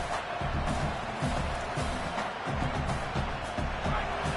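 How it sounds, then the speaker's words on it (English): A large crowd at a Michigan vs Oklahoma college football game roars and cheers continuously during a defensive play, a dense wall of noise that swells slightly throughout. "Listen to this crowd just shaking the girders of this place, trying to help their defense."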